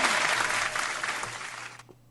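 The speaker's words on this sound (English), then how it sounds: "Let's get this back round of applause." A round of applause, brisk clapping that holds loud and steady, then stops abruptly near the end.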